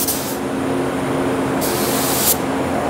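DB1 spray gun with a 1.4 tip spraying clear coat onto raw plastic, a steady loud hiss with brief bursts of brighter air, close and without voices.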